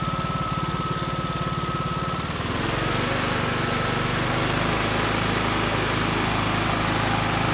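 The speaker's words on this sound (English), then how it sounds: "This Kohler carburetor runs nice and smooth now" A rebuilt small Kohler Courage engine idles with a steady, throbbing chug, then its tone shifts and it keeps running evenly, loud and close, with no one talking.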